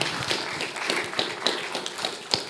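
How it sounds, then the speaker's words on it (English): Scattered applause from a small audience at a panel event on the energy sector and EV industry, a thin patter of claps at moderate distance with a few sharper individual claps standing out. "Please, a round of applause for Daniel."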